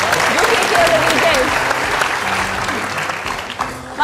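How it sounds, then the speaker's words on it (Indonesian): Loud, dense audience applause on an Indonesian television talk show, a crowd welcoming a guest with sustained clapping and cheering that fades slightly toward the end. "kita kasih sambutan dong, tepuk tangan"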